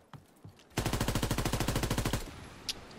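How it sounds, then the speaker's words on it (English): Rapid machine pistol fire from Call of Duty WW2 online play, one loud sustained burst of evenly spaced shots lasting about a second and a half, with quiet game ambience before and after. "That little machine pistol gonna kill him."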